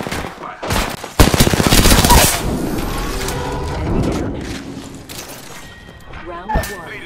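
Automatic weapon fire in the Apex Legends video game, loud bursts of rapid shots with a sharp crack near the start, fading into quieter scattered shots, with a voice talking over the gunfire.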